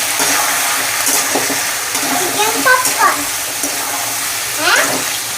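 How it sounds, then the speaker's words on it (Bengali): Chicken cooked with potatoes is turned over in a pan, giving a few soft scrapes and wet shuffling sounds against a steady hiss, while a voice talks at moments. "আমি চিকেনটা আবার একটু নেড়ে দেবো।"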